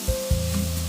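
Chili oil hits tofu fried rice in a hot pan, giving a brief close sizzle with a couple of soft bumps and a steady hum beneath.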